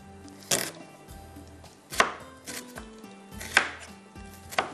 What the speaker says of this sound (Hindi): इसी तरह से मैं दूसरे प्याज को भी कटिंग कर लेती हूँ